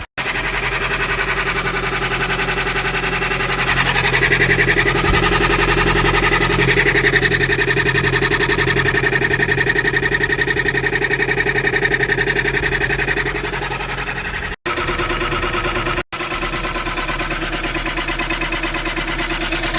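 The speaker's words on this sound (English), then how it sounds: "I have a feeling it's that cam gear rubbing against something" A Honda Civic EF sedan engine runs steadily close up with a constant mechanical whine and hum, a faint rubbing from the cam gear woven through it, briefly cutting out near the end.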